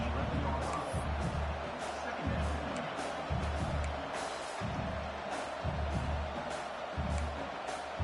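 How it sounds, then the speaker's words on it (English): A football stadium crowd during a college game at Clemson rises in a steady, loud roar that swells in waves while a defense holds in the red zone, with rhythmic low thumps beating under the broad cheering. "Crowd coming to life here, trying to help this defense down in the red zone."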